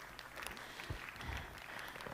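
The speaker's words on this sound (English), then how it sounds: "big applause for Karel" Faint, distant applause from a seminar audience at a large agricultural trade fair, a steady patter of clapping over a couple of seconds with a few louder claps standing out.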